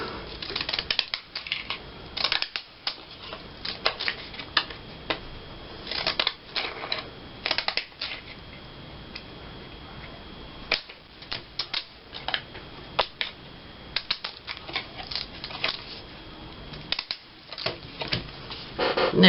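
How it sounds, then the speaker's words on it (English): Fancy-edged scissors snip along paper edges for a Victorian gluebook, a close run of crisp, irregular cuts and rustles. "I think I'm going to use some fancy scissors"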